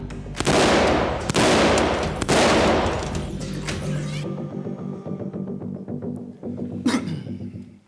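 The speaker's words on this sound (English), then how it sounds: "Let's shoot some guns." Guns firing in a fast burst of loud, closely spaced shots, followed by a quieter stretch with a ringing hum and one more sharp report near the end.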